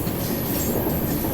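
The Kashi Mahakal Express passenger train rolls along the rails with a loud, continuous rumble and rattle, a faint high squeal running above it, heard from close by.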